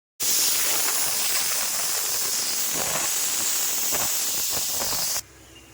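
Steady, loud steam hiss from a pot of idli cooking for a Sunday breakfast, continuous for about five seconds and then cutting off abruptly to a quiet room hum.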